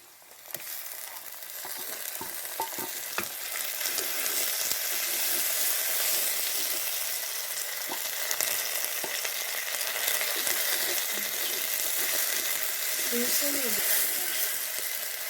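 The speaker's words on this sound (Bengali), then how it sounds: "মশলাগুলো একটু ভালো করে ভেজে নিয়ে তারপর মটরশুঁটিগুলো দিয়ে দেবো।" Ground spice paste of onion, garlic, green and dried chilli, ginger, cumin and turmeric fries in a pan for pea ghugni, giving a steady, fairly loud sizzle throughout with faint utensil scrapes and brief speech late on.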